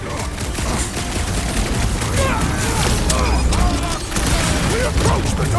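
Rapid bursts of gunfire in the Guardians of the Galaxy video game during a rooftop fight, loud and dense, layered with game effects and voices.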